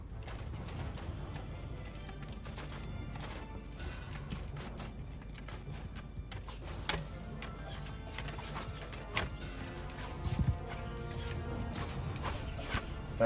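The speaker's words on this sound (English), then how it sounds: "That's a lot of horses." Many horses galloping in a bandit-themed video game, a steady dense patter of hooves across the whole stretch with scattered louder thumps and game noise layered on top.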